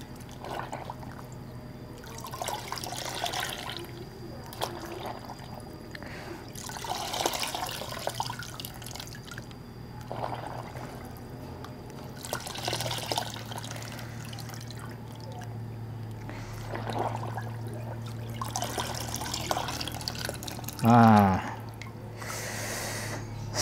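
A dirty K&N air filter is dipped and rinsed in a bucket of water, with soft sloshes and drips repeating at intervals, faint and close, ending in a brief louder splash.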